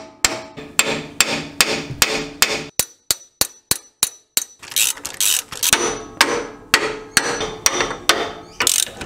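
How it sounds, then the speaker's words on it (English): A hammer strikes the steering drag link joints on a D22 Nissan Navara with sharp, close metallic taps. They come in steady runs of repeated blows, with a cleaner, evenly spaced series in the middle. "just get a hammer, give them a couple of good taps, see if they pop out"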